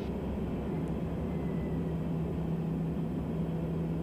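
TBM 940 turboprop airplane climbing out after takeoff, heard as a steady, loud engine and airflow drone with a constant low hum throughout.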